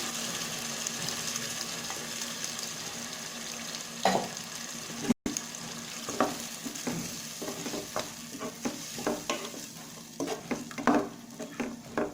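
Ground coriander-mint paste goes into a hot pan for green chicken kurma and is stirred, a steady frying sizzle broken by scraping spoon strokes that grow busier toward the end.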